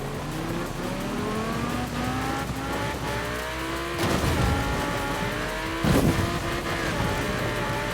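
A Lamborghini in Forza Horizon 4 races with a high engine whine and shifting revs, tires squealing, then two loud crunching impacts as it crashes.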